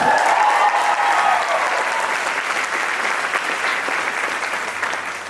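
A crowd at an East Carolina University commencement ceremony claps in loud, steady applause that tapers off slowly over about five seconds.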